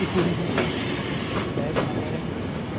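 KRL commuter trains, a TM 6000 and a Tokyo Metro 7000, pass side by side in a steady, loud rumble of rolling wheels, with faint rail clatter throughout and no talk.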